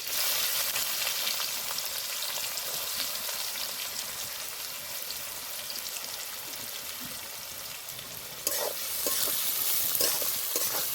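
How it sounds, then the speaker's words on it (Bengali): Chopped onion and crushed garlic frying in a pan after cardamom, a steady close crackling sizzle with stirring throughout, briefly louder near the end. "পেঁয়াজটা ভালো করে ভেজে নেব"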